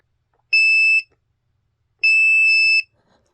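A continuity tester beeps while testing a car fuse tap. Two loud, clean, sustained electronic tones sound close by, each about half a second to a second long, separated by silence.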